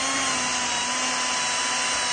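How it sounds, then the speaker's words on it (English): A power drill whines steadily and loudly, pre-drilling holes into wood for 5/16 by 2 inch lag screws while an elevated hunting blind is built, a continuous high-pitched motor tone with no pauses. "We're going to pre-drill a couple holes."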